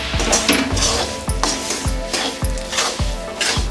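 Gram flour roasting in a pan for besan laddu, with a soft continuous sizzle and regular scraping knocks of a spoon stirring against the pan, close and steady.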